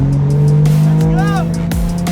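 A drift car warming its tires spins them in a sustained, loud squeal over a steady engine drone, with a brief chirping skid partway through at a drifting event.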